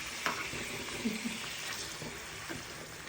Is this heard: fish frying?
yes